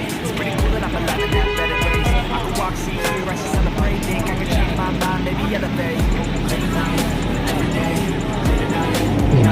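Intercity buses of the Kurnia and Armada Indah lines idle at a terminal, a steady loud engine rumble with passing traffic and crowd murmur around it.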